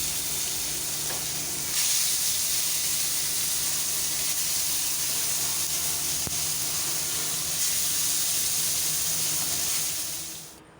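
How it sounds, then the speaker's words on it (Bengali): Fish frying in hot oil in a pan, a loud, steady sizzle and hiss that swells briefly with a spatter burst and then fades out near the end, with no voices. "তো আমি মাছগুলো ভেজে নিচ্ছি"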